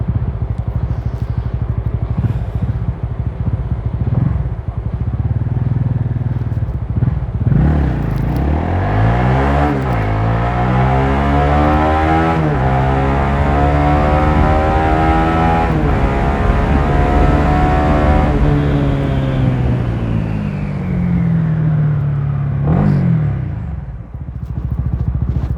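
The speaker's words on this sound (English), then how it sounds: "revving up to 10k on a little bike like this" Honda Winner X 150 motorcycle from 2022 revving hard while riding, engine pitch climbing in long sweeping runs and easing back, loud and close with steady wind rush throughout.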